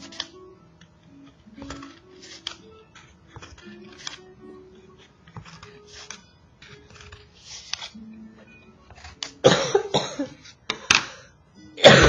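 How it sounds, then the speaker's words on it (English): A person with a cold coughs in a few short harsh bursts near the end, after quiet handling sounds of cutting notches into a plate for a circle loom. "I'm sorry guys for coughing so much"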